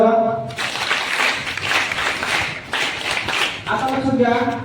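An audience bursts into clapping, a dense, loud wash of hand claps lasting about three seconds, with speech before and after.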